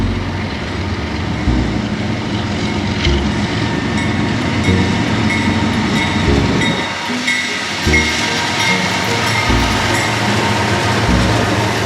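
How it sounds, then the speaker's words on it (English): Intermodal freight train rolling through Roanoke, a loud continuous close rumble of cars and wheels with rhythmic clacking over rail joints throughout. "a random intermodal train popped up out of nowhere"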